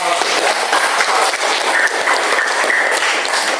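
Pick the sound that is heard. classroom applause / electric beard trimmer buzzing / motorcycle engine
classroom applause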